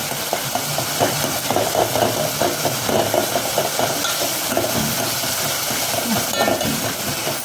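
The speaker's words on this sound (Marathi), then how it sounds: "टमॅटो आणि कांदा छान असा परतला गेलेला आहे" Tomato and onion sauté in a pan until soft and mashed, giving a dense, continuous sizzle with steady stirring and scraping throughout, close and loud.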